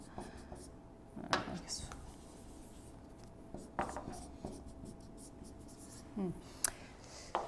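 Faint, scattered pen strokes on a board, a few short scratches and taps spread across several seconds in a quiet room.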